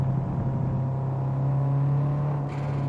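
Steady engine drone of a Subaru WRX on a track, a constant low hum holding even with a slight lift near the end, with no talking.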